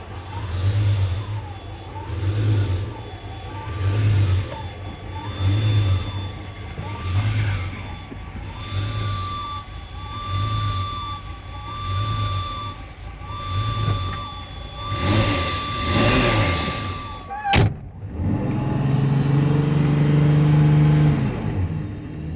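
A 1987 Ferrari Testarossa runs after a cold start, its engine pulsing in regular rev swells close by, ending in a sharp click and a smoother, steadier idle.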